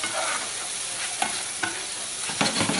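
Tomatoes and mushrooms sizzle loudly in a hot pan with garlic and shallot, a constant close frying hiss broken by several scraping stirs.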